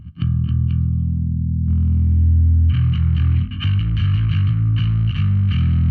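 An electric guitar played through an Alpha Omega distortion pedal: heavy, thick chugging chords, first a sustained low riff, then fuller strummed chords with a gritty, saturated tone, loud and close with no talking.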